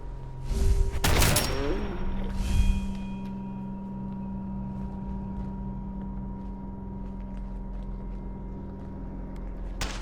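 Gunfire in Fallout 4, a loud cluster of sharp shots and rattling bursts in the first few seconds, then fading into a steady low game hum with a faint tone, ending with a brief noise.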